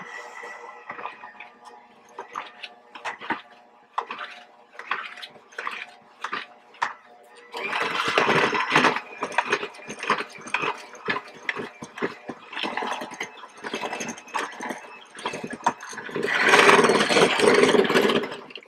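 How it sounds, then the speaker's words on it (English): An electric hand mixer whirs in bursts while mixing a solid bubble bath bar mixture, first in short, quieter pulses, then in louder, sustained runs close by. "And I mix using a hand mixer."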